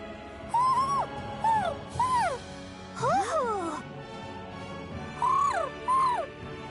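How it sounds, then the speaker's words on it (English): Owls in the video game Tales of Arise trade soft, wavering hoots back and forth, a series of short rising and falling calls over quiet game ambience. "He's probably happy to see another owl."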